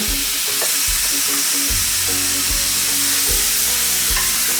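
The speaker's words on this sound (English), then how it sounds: "take a few tortillas, cut them into strips, and you're gonna toast them in a pan until they get nice and golden brown" Tortilla strips toasting and sizzling in a hot pan, a steady loud frying hiss with occasional stirring scrapes and clunks, heard alone without talk.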